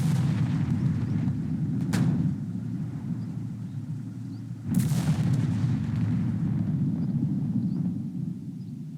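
Artillery guns firing in the war video game Second Front, two sharp booms standing out over a steady low rumble of continuous distant gunfire.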